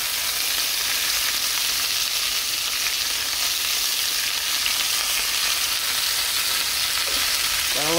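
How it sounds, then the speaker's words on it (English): Peppers and onions fry in a skillet, giving a loud, steady, unbroken sizzle that holds evenly throughout with no talking over it. "Now we're gonna do the peppers and the onions into the skillet"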